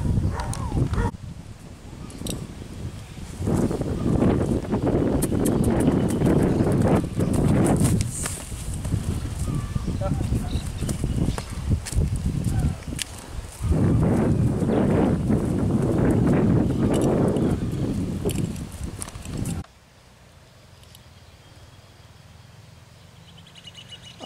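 A gentle horse walking through a large, very wet and waterlogged paddock, its hooves making a steady squelching clip-clop alongside strong wind buffeting the microphone, before the sound drops away into quiet near the end.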